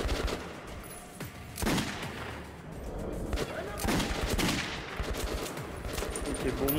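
Revolver gunfire in the video game Metro 2033 Redux, a run of sharp, loud shots at uneven intervals with bursts clustered close together.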